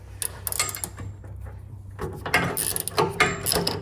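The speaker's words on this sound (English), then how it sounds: "First, you're going to put the gear wrench on the nut, and then you're going to place the 6mm Allen wrench in the center." An 18mm gear wrench ratchets on a nut during a lift kit install on a Jeep Wrangler JL, with rapid close metallic clicking in short bursts and brief pauses between strokes.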